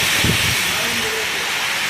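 Torrential downpour pours down as a steady, dense hiss, with a brief low voice-like murmur near the start.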